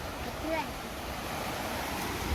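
Floodwater of the Kajali river rushes in a continuous broad roar during heavy monsoon rain, heard from a bridge with wind buffeting the microphone.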